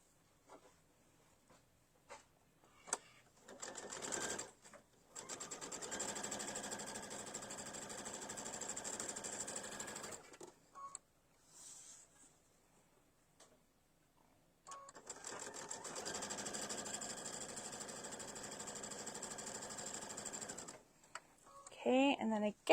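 Sewing machine running two long continuous stitching passes on a vinyl mesh zipper pouch, each a steady mechanical whir of several seconds, with short pauses and faint handling noises between.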